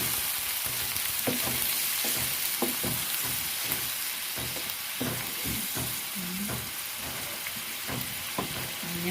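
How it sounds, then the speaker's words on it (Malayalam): Ground coconut paste poured into a pan of frying ginger, green chillies and onion for a home-style ginger curry, giving a steady close sizzle with scattered stirring clicks and scrapes throughout. "ഇതിനകത്തേക്ക് നമ്മൾ അരച്ച് വെച്ചേക്കണം അരപ്പ് ഒഴിക്കുക"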